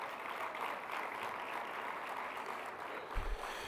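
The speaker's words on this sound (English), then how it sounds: "Please give Dr. Judith Gay a big, big round of applause." Applause from a conference audience at a community college legislative summit greeting the interim president, a steady, even wash of clapping held at one level throughout, with a brief low thump near the end.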